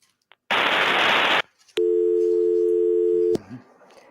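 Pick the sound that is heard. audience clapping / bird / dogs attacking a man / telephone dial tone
telephone dial tone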